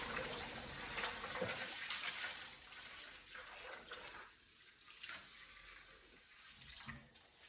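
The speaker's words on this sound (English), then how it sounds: "Add some more water." Water is poured over soybeans in a bowl while making soymilk at home, a faint splashing and trickling that fades over a few seconds.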